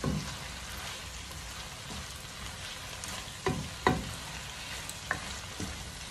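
Spicy squid sizzling steadily in a hot pan, with several sharp scraping stirs of a utensil breaking through the constant frying hiss.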